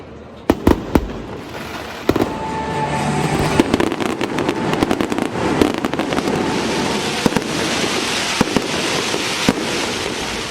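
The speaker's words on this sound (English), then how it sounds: "the Guardians were about to shoot off a whole lot of fireworks" A stadium fireworks show at Progressive Field, home of the Cleveland Guardians, fills the air with loud, sharp cracks and booms over a dense, continuous crackling rumble that goes on without a break.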